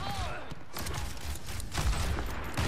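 Player gunfire in Overwatch 2, a continuous crackle of rapid shots with heavier thumps near the end, mixed with faint game effects and speech.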